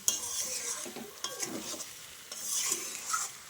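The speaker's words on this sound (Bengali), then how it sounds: "ভাজা আলুটা দেওয়ার পরে আর একটু কষাবো কষিয়ে তারপরে জল দেবো পরিমাণ মতন" Fried potatoes being stir-fried in a pan over a medium gas flame, with brisk scraping and stirring strokes over a continuous soft sizzle, near and close.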